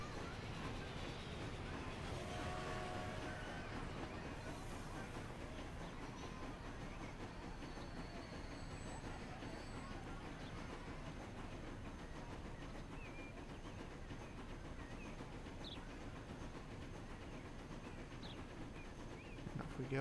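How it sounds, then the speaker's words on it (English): A train in the railway game Transport Fever, on the Chester branch line, runs with a steady, continuous rolling rumble and faint rail clatter, moderately loud and unbroken throughout, with no talk. "Another train approaching."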